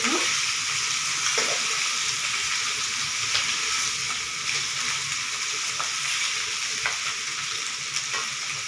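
Ginger frying in a pan as the start of a chicken feet soup gives a steady, close sizzle with light stirring scrapes throughout.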